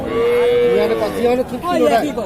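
A cow with a crossbred calf moos loudly and close by at a cattle market, a long drawn-out low call followed by a second wavering moo.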